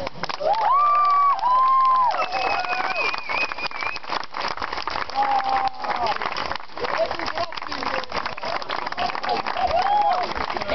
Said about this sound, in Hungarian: hol marad az a nagy taps?